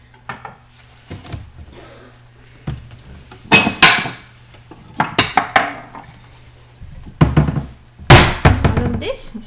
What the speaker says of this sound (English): I'm gonna put these in a little dish.